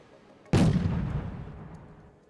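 A command tank opens fire in Wargame: Red Dragon with a single loud cannon boom that rolls away slowly into a long, fading rumble.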